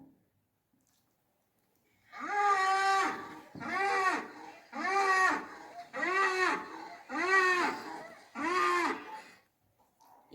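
A bull lows six times in a steady rhythm, each moo long, loud and close with a rising then falling tone, heard alone as part of an animal sound guessing game.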